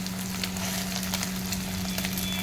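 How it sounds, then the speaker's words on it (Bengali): Egg with a little turmeric frying in a pan, spreading like an omelette, a steady close crackling sizzle with fine popping spatters throughout and no talking. "এটা ডিম পোচ না, ডিমের মামলেট মতন হয়ে যাচ্ছে"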